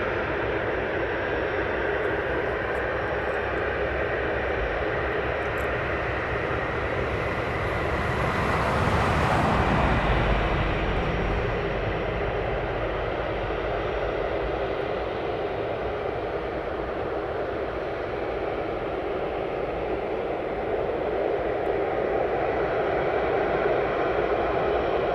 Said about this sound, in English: FedEx 757 just landed